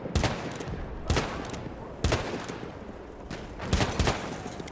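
Peacekeeper pistol fire in Battlefield 1 comes as four or five loud, sharp single shots spaced about a second apart, each with a short echoing tail.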